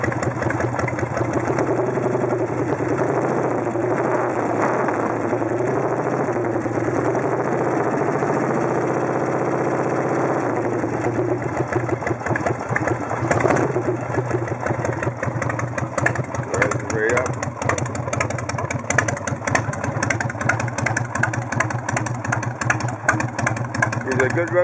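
A 1986 Harley-Davidson Heritage Softail Classic FLSTC idles on a cold engine with a steady, loping chug that stays close and continuous, and someone talks faintly nearby.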